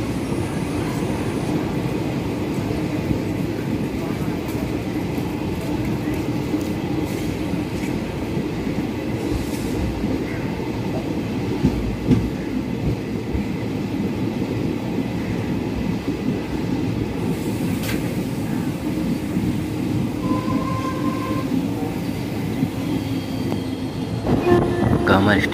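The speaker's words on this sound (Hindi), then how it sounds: "और यहाँ से ट्रेन खुल चुकी है।" Onboard the Bibhuti Express passenger train as it pulls out of a station, a steady loud rumble of wheels and carriage noise runs throughout, with faint clatter and a few knocks near the end.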